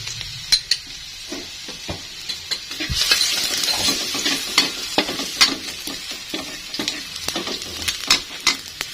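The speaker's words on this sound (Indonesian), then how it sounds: "Nah, ini minyaknya udah panas, langsung aja saya mau tumis bawang putihnya." Garlic sautéing in hot oil in a pan for stir-fried green beans, steady sizzle with a spatula repeatedly scraping and clinking against the pan, close and alone.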